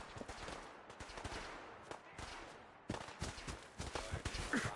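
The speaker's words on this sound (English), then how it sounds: "Do you not hear the fucking gunshots, mate?" Rapid, irregular bursts of Fallout 4 gunfire crackle continuously, some shots sharper and closer, with a low background rumble.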